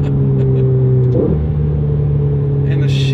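Ferrari 488 turbo engine heard from inside the car, a loud steady drone with a shift in pitch partway through and a short hissy release near the end, like a blow-off valve venting.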